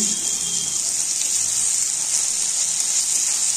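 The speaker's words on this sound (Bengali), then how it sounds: "এবার হালকা করে ভেজে নেব।" Chopped onions with salt fry in oil seasoned with whole cumin and bay leaf, a steady, even hiss close by with no talk over it.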